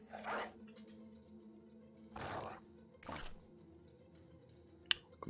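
In the video game Battle Brothers, a dog attacks with three short, scattered bursts of growling and snarling, followed by a sharp click near the end.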